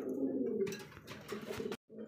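Domestic pigeons, including racer, giribaz and Bombay types, sit on eggs in a loft and coo steadily and close by in low, throaty, overlapping calls, with a short silent gap near the end.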